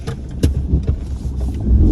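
A freshly washed car pulls away with a low, steady engine rumble, broken by a few dull knocks and thumps, close by and with no one talking.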